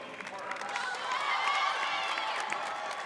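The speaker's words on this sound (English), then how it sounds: "there you hear it, the applause for her." During a high school basketball game, BV North vs Washburn Rural, crowd applause and cheering swell in a gym for a player, a continuous roar of clapping and voices under the announcer's commentary.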